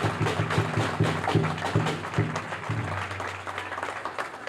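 Outdoor applause at a Cape Verdean flag raising for the organizing committee, clapping from a modest crowd that builds and then thins out, with a few voices and a sustained tone underneath.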